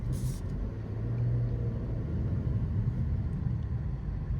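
Honda Civic Si, tenth generation, driving at low speed and turning tightly, a steady low engine and road rumble from inside the cabin, even and moderate with no speech.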